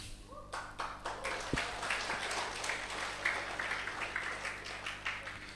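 Dense, steady applause from an audience at an Indonesian spiritual talk on tauhid and Sufism, many hands clapping together at a fairly even level throughout.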